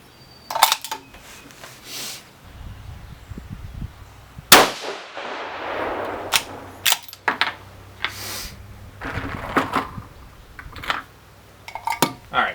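A single cold bore shot from a 6mm GT rifle at a target fires as one loud, sharp crack midway, surrounded by scattered metallic clinks and handling noises.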